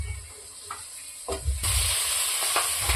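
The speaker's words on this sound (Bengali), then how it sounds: "কেটে রাখা আমগুলো দিয়ে দিচ্ছি" Cut mango pieces tipped into a pan of turmeric and spices frying for a light shol fish curry. A few soft clunks, then a sudden loud, steady sizzle with stirring scrapes.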